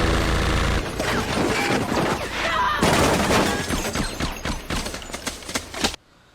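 Rapid gunfire from a Fast and Furious motorcycle scene, dense loud bursts of shots with engine and action noise underneath, fading to sudden silence at the end.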